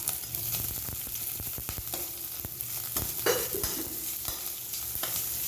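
Garlic and chillies sauté in a pan after fennel seeds and asafoetida, giving a continuous close sizzle broken by frequent scraping stirs of a spoon, with no talking.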